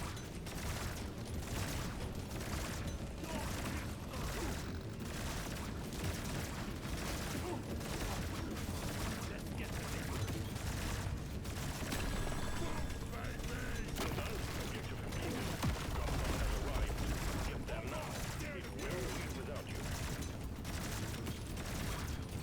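Rapid coilgun fire in Deep Rock Galactic: Survivor, a dense steady stream of mechanical shots and clanks running nonstop at an even level behind busy game noise.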